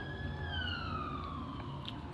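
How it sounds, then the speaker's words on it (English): Fire truck siren wailing as it passes by, its steady tone sliding gradually lower as it moves away. It is moderately loud and continuous, with no talking over it. "Fire truck just went by. I apologize for the siren."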